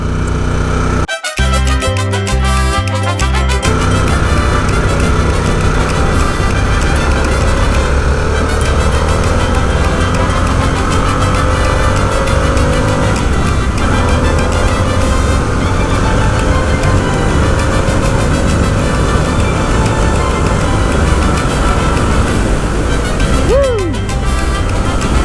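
Harley-Davidson Sportster S motorcycle cruising at speed in fourth gear, a sustained loud engine drone and wind roar with slow pitch drift, a brief clatter near the start and a short rising tone near the end.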